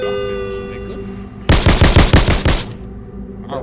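A submachine gun fires in a video game: a single rapid burst of roughly ten sharp, loud shots lasting about a second, standing out against a quiet, humming background.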